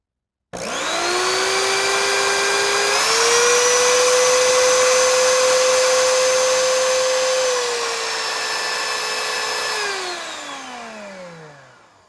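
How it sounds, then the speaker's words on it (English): An Oreck XL2800 vacuum cleaner motor, about 20 years old, switches on and runs steadily with a high whining hum that rises in pitch after a few seconds. It then winds down as the motor coasts to a stop, close and loud. "you can see maybe just a tiny bit of initial sparking when I turn the motor on"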